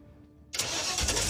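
A Ford Ranchero engine starts after a trigger wire repair: a brief crank followed by the engine catching and settling into a loud, steady run close by.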